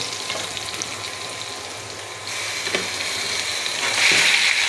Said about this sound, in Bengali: এখানে আমি পেঁয়াজ, রসুন, শুকনো মরিচ তেলে ভেজে কচুটাকে দিয়ে দিব।